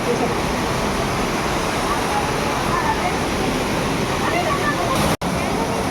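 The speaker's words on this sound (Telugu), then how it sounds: "సో ఈ వాటర్ అయితే న్యాచురల్ 365 డేస్ మనకి ఇలా వస్తూనే ఉంటుంది." A natural waterfall at a hidden spot, flowing year-round, makes a steady, loud broadband rush with no break in the roar apart from a momentary dropout near the end.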